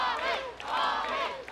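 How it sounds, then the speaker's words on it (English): A large arena crowd at an American Gladiators event in Huntington Beach, California chants a competitor's name in loud, rhythmic, sustained waves of massed voices, filling the space with no other speech. "The crowd chanting Tommy, Tommy, Tommy."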